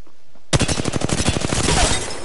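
Rapid automatic gunfire in the Apex Legends battle royale game bursts in suddenly after a quiet moment, a loud sustained stream of closely spaced shots that continues to the end.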